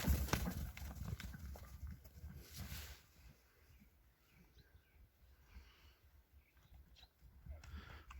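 An eight-year-old Orlov trotter stallion gallops with faint, somewhat distant hoof clip-clops in an irregular rapid rhythm over a low outdoor background.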